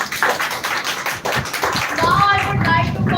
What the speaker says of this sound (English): Once again, clap for her.